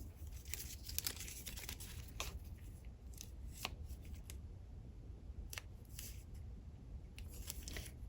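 Strip of tape being pulled and handled while working on a December Daily journal: a series of close, sharp crackles and rips in uneven bursts, with quieter rustling in between and no speech.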